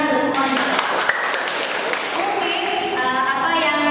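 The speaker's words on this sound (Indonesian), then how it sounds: "Tepuk tangan untuk semuanya." An audience claps during a teaching practice session on community catechesis. The applause is moderate and steady beneath ongoing speech and voices.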